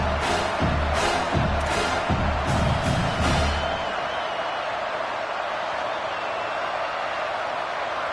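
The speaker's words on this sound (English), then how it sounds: "how nice is it to have the home crowd going absolutely bananas" A home crowd at a football game roars loudly, with rhythmic pulses of cheering and clapping for the first few seconds before settling into a broad, steady stadium din.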